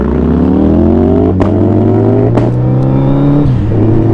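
Ducati Panigale V4R fitted with an Akrapovic exhaust idles loudly and steadily up close, its deep engine note broken by a few sharp misfire pops and a slight dip in pitch near the end.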